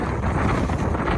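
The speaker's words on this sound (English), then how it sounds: "check out how windy it is already" Loud, continuous wind buffeting the microphone at a Lake Superior lakeside campsite, a dense low roar with no pauses.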